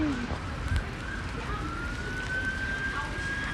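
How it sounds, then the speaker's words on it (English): A siren from a passing emergency vehicle wails outside on a rainy day, with a long rising and falling tone heard at a distance over a steady wash of rain and street noise. "'Cause I think there's another ambulance coming."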